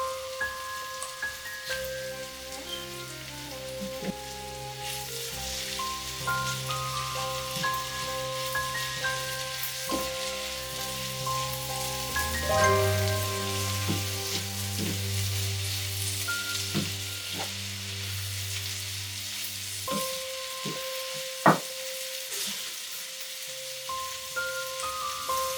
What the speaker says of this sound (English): It's time to add some chopped garlic.